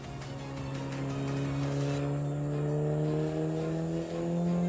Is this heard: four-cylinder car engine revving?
yes